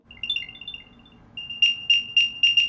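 An Apple AirTag 1st generation tracker gives a high electronic chirping melody, then a run of five sharp, evenly spaced beeps, close and fairly loud.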